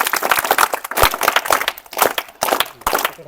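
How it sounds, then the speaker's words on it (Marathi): A crowd claps loudly and continuously in dense, rapid waves at a Zilla Parishad primary school ceremony in Malwadi honouring students' success in a sports competition. "सर्वांनी जोरदार टाळ्या वाजवायचे"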